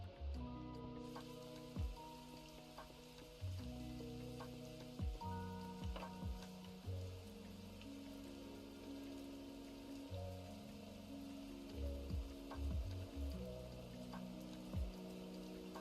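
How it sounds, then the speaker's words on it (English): Rain falls in the video game Schedule 1, a soft, steady patter of drops that runs beneath layered, droning background music with occasional sharper taps. "The rain's so nice."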